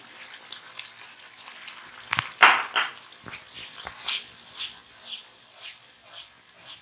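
Masala mixed with yogurt fries in a pan for kofta biryani, giving a soft sizzle under scattered scraping and stirring knocks, with one sharp clatter near the start.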